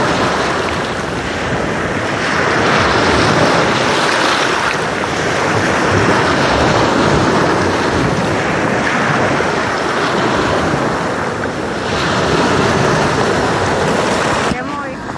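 Sea waves wash against the shore at a beach near a lighthouse in Lobo, Batangas, while heavy wind buffets the microphone in a loud, continuous roar that swells and eases.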